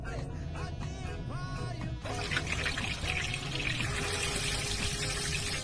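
Cooking oil pours in a steady, close, continuous stream. It starts partway through after a quieter stretch of muffled background sound and keeps flowing to the end.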